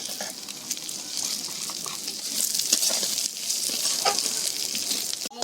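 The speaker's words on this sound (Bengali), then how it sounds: "ডালটা ভেজে নেব।" Mung dal fries in a pan with a bright, crackling sizzle, steady and close, with light stirring taps and scrapes throughout.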